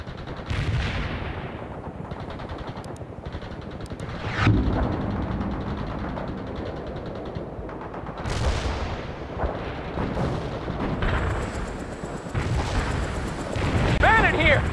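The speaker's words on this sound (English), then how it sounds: "Everyone and their grandmother are shooting at us with RPGs!" Battlefield gunfire and rocket-propelled grenade blasts fill the World in Conflict video game, with continuous shooting punctuated by heavier booms and explosions, while voices speak over the combat.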